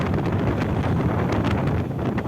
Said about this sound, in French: Là, ça souffle très fort.